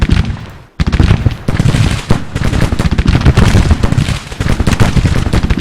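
Massed musket volleys crackle in Grand Tactician: The Civil War during a battle at a plantation: loud, dense, overlapping gunfire rolls on almost without a break after a short pause near the start.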